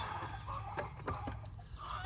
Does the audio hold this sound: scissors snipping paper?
no